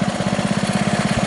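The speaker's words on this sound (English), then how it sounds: "We're gonna start out in first gear, get up this hill, which is actually on this particular tractor" A tractor engine labors up a hill in first gear with the drive in high range, giving a loud, close, steady thrumming with an even rhythmic pulse.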